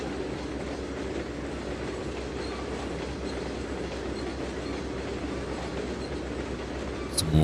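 A freight train of UP reefers, BNSF high cubes and an oil tanker car rolls past in the Trainz 2022 game, with a steady, continuous rumble and wheel clatter that swells slightly at the very end.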